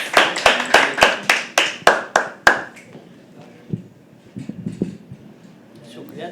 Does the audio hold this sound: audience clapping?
yes